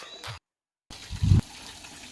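Water is scooped from a bucket with a small vessel and poured onto plants, making a short, soft splash and gush after a brief silence. The sound is quiet and close, with no talking.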